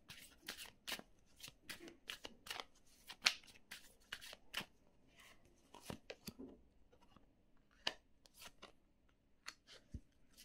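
Tarot cards being shuffled by hand in a quiet room, a steady run of soft riffling flicks and papery slaps at close range, with a few sharper card snaps and no talk.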